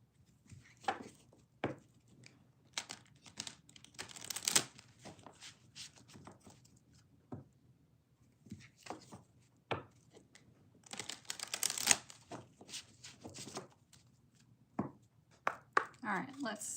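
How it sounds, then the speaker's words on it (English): Tarot cards being shuffled by hand, a run of soft papery riffles and flicks at close range, in bursts with short pauses between, fairly quiet overall. "let me get these shuffled"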